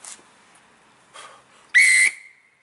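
A tin whistle played with a weak breath gives a soft, breathy, airy tone in short puffs, then one brighter held note that fades out quickly.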